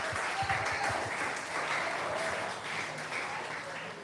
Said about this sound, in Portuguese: Aplauda Cristo.